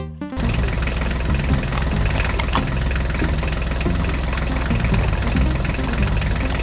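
A mini tractor engine runs steadily and loud from start to finish, a dense continuous drone with a layered, buzzing tone and no pauses.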